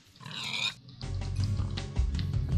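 Pig grunts and oinks from the Minecraft video game, a couple of short squealing calls followed by low, rumbling grunts against a busy, dense background of game sound.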